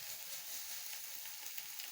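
Chicken sizzles steadily on a grill for chicken and chips, a continuous close hiss of frying with no pauses and no voices.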